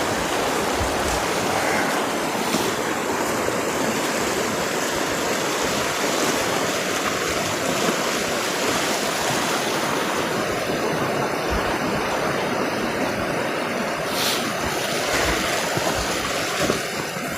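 A river rushes in a steady, broad roar on a foggy, drizzly hike, continuous and close without pause for over fifteen seconds, with no voices over it.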